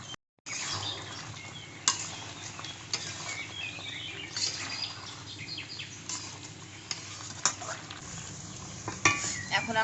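Chicken curry being stirred in a pan at home, with close scraping and clattering strokes over a steady sizzle, a few sharper knocks of the spoon against the pan, no talk.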